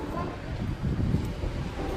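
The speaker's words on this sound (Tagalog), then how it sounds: "Lakas ng hangin." Strong wind buffets an outdoor spot at Mingwan, a steady low rumble of gusts swelling and easing for two seconds with no voices.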